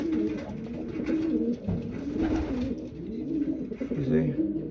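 Racing pigeon coos in low, rolling repeated calls close by, while someone speaks at intervals over them.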